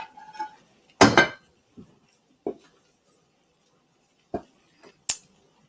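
Dishes and utensils clink and clatter while black bean soup and a grilled cheese waffle are plated: a few sharp, separated knocks and chinks with quiet gaps between them.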